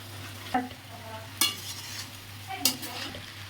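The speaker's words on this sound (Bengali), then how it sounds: "এবার চালটা দিয়ে দিলাম ভাজার জন্য" Rice frying in a pan with lightly fried onion and garlic paste, a soft steady sizzle broken by three sharp scraping stirs of a spoon against the pan, with a low hum underneath.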